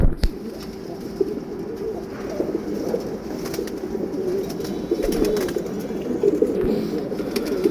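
Pigeons kept in a loft coo softly and steadily in a low, continuous murmur with occasional faint clicks and shuffles, close by and without talk.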